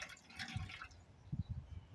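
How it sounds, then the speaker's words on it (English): Hydrogen peroxide poured into an open container, a short, faint trickle and splash of liquid with a few soft drips, heard close and alone. "This is the hydrogen peroxide that we have. Pour this into my open container."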